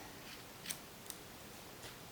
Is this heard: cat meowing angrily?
no